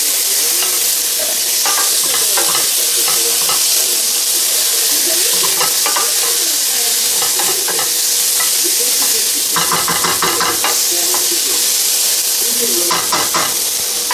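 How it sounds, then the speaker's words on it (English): Minced garlic and rice mixture sizzling in a frying pan while being stirred: a continuous loud hiss and crackle with scraping stirring strokes throughout, up close. "And we're going to stir."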